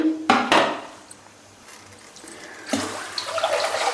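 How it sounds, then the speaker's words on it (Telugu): Water splashes and pours into a pot while preparing Rayalaseema-style ragi sangati, in two bursts: a short splash near the start, then a longer steady pour at the end, with quiet moments between and no talk. "రెండు పాత్రలు నీళ్ళు అయితే పోసుకున్నాను"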